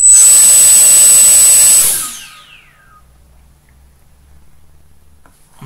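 A drone motor on a Pixhawk hexacopter whines loud and high during a throttle test, holding a steady tone for about two seconds before cutting off and spinning down into near silence.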